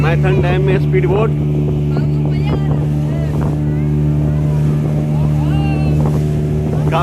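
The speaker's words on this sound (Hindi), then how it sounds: "मैथन डैम में स्पीड बोट।" A speedboat runs on the water at Maithon Dam, its engine a loud, steady drone with strong low harmonics right at the microphone, mixed with rushing wind noise and occasional indistinct voices throughout.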